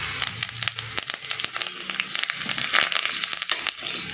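Shallots and curry leaves sizzle and crackle in hot oil for the tempering of a dried prawn and raw banana curry. The frying is dense and continuous, with bright popping spatters, close by and with no talking.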